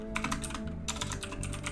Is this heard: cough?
no